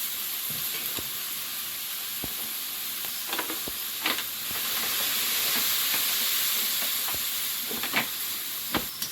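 Tangra fish and pumpkin greens frying together in oil, a close, steady sizzle and hiss that swells briefly mid-way, punctuated by sharp spatula clacks and scrapes, with no talking.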